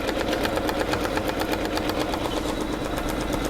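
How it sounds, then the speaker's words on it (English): An embroidery machine stitches a flower design onto a Christmas tea towel. Its rapid, even mechanical hum and pulsing stitch rhythm sound loud and close, continuous throughout, with no speech. "it's going to stitch it all in one go"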